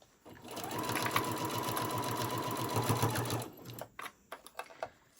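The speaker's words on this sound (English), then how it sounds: "so now I have it on the end of my machine, and I'm going to just sew about a 1/4 inch seam allowance, going around" A sewing machine runs a quarter-inch seam along a tote bag, a fast steady mechanical whir lasting about three seconds before stopping, followed by a few light clicks and handling sounds.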